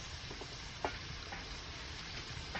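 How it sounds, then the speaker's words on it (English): A pot bubbles and hisses steadily on a wood stove inside a hot tent, a soft continuous boil with a few faint clinks. "It's all boiling."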